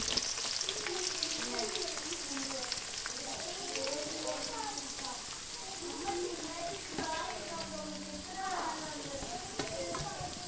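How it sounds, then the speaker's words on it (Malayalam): Onion, ginger and garlic sautéing in oil for pepper chicken, a loud continuous sizzle with occasional stirring scrapes, no voice. "ബാക്കി വന്ന ആ സവാളയും കൂടെ ഇട്ട് ഒന്ന് ഇളക്കി കൊടുക്കാം"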